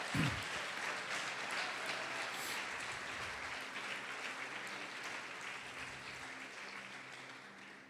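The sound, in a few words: church congregation applauding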